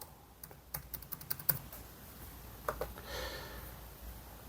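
Fingers type a password on a computer keyboard, a quiet burst of quick close key clicks, then a few more taps and a faint rustle.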